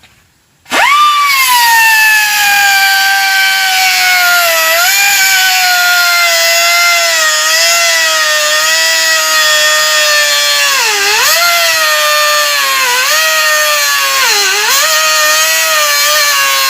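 A power tool cutting off the exhaust hangers on a Mazda 6 during a cat-back exhaust install, running as a loud, steady whine for about sixteen seconds, its pitch dipping briefly several times as the blade bites into the metal.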